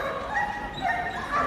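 Police dog in training, whimpering and yipping in short repeated bursts at moderate distance, with no talk over it.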